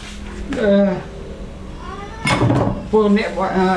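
A domestic cat meows loudly and close by, several drawn-out cries in quick succession.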